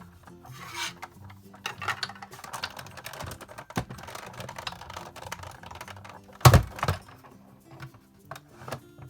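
A Sizzix Big Shot die-cutting machine cranked with cardstock on its cutting mat gives a steady grinding, rasping crank, then one loud clunk near the end and a short tail of mechanical noise.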